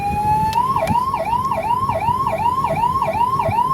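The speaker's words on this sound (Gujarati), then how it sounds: "સો આ સાયરન જુઓ." A Maruti Eeco ambulance siren sounds loud and close in a fast, repeating rising-and-falling yelp, cycling steadily without pause.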